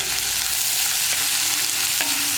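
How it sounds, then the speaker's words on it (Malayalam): Onion sautéing in oil for a vegetable samosa filling, a steady close sizzle with a couple of faint stirring scrapes, no talking. "ഈ സവോള വഴറ്റാനാണ് നമുക്ക് മെയിനായിട്ട് എണ്ണ വേണ്ടത്."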